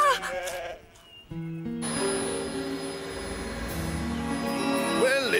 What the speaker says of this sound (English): I can't eat with all these sheep looking at me.